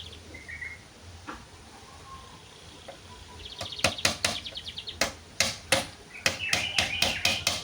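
Nails hammered into the leg of a simple wooden cage for a zebra dove: sharp, faint knocks arriving in quick bursts of blows, with soft bird chirps in the background.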